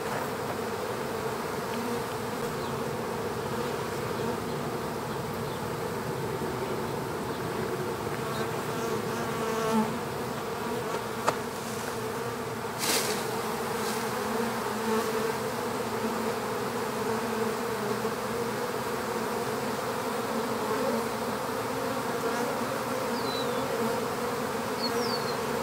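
A swarm of honey bees buzzes steadily and densely around an observation hive as they gather at a wall and climb inside, with some fanning at the entrance; the drone is continuous and close, with no voices.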